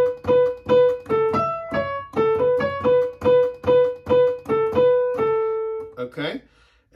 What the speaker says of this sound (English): There's a little melody. The melody sounds like this.